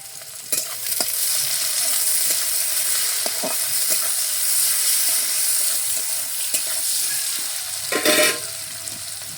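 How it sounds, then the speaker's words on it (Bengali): Onions fry in hot oil in a pan, a loud, steady, dense sizzle that carries on throughout with scattered light clicks and scrapes of stirring and a stronger burst near the end. No one speaks. "পেঁয়াজ লাল লাল করে ভাজা হয়েছে।"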